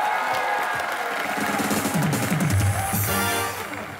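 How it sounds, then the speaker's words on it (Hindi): A loud studio audience at the comedy talk show Comedy Nights with Kapil bursts into sustained applause and cheering, steady and dense for several seconds before easing slightly at the end. "जोरदार तालियां।"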